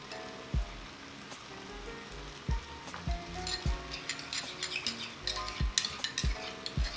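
Thai drunken noodles sizzling and frying in a hot pan, a constant crackling hiss broken by repeated dull thumps and clinks of utensils stirring and tossing.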